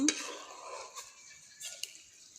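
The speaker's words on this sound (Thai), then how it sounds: "เราก็คั่วไปคั่วไป คั่วให้หอมหอม" Food being dry-roasted in a pan on a stove, a utensil scraping and stirring with soft clinks and light rustling, fairly faint and close.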